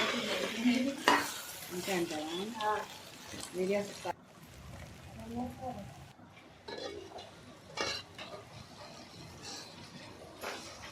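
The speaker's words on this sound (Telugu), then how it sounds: "ఒకసారి ఇదంతా బాగా కలుపుకొని బాగా ఫ్రై చేసుకోవాలి" Sliced okra with ground garlic and chili powder is stirred and fried in a pan, with scraping strokes and a steady sizzle while a person talks over the cooking.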